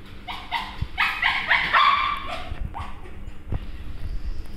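Several dogs yip and whimper in a quick burst of high, overlapping barks, close by, followed by a few scattered thumps.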